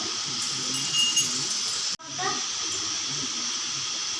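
Dry red chilli, bay leaf and whole cumin sizzle in hot oil in a village kitchen, a loud steady hiss that briefly cuts out near the middle and then resumes, with faint background voices.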